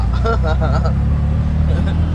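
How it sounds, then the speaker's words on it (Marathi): An auto rickshaw drives along a road toward Panvel, its low engine rumble running steadily beneath loud nearby talking. "गाईज निघाली आता आमची रिक्षा पनवेलच्या रोडला"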